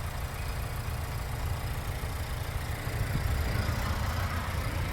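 A 2024 Mazda CX-5 SUV's inline-four engine idles steadily, a continuous low-pitched rumble that stays even and moderately loud throughout with no talking over it.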